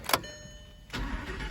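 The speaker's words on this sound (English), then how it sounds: "I'll go ahead and fire it up." An Audi RS5 engine cranks briefly and catches, then settles into a steady low rumble close by.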